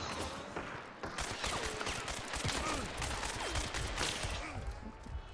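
Gunfire in the video game Hunt: Showdown, a fairly quiet cluster of rapid shots and impacts over busy in-game background sound, with no clear speech.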